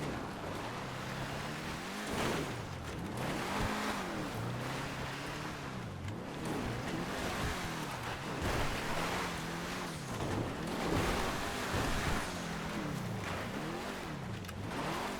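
A Grotti GT750 sports classic car driving in GTA 5, with a steady engine drone whose pitch rises and falls repeatedly through gear shifts and revs, continuous and fairly loud throughout with no talking.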